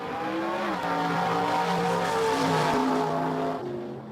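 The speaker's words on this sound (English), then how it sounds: "the smells, the sounds of these muscle cars" Muscle car engines roar past, a loud, throaty tone whose pitch sweeps upward and then drops as the cars approach and pass, swelling to a peak before fading.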